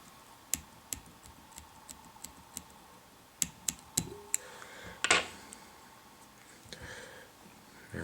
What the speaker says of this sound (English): we'll want to trim out all that excess superhair